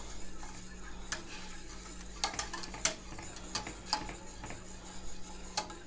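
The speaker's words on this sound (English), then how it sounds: "And then immediately start stirring it." An ice cream base thickened with corn flour being stirred in a pot, faint irregular clinks and scrapes of a utensil against the pan over a low steady hum.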